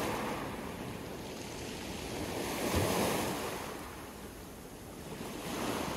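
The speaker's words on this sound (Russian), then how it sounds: "И море приятно шелестит волнами" Black Sea waves at Sochi wash and hiss steadily against the shore in February, a soft continuous surf with gentle swells, no voices.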